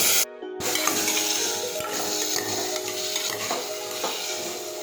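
Shelled peas and chopped tomato sizzle faintly in a pan while being mixed, a low steady frying hiss with light scraping taps of the spoon throughout.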